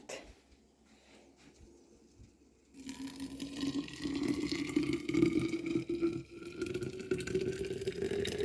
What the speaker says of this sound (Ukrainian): Так, заливаю.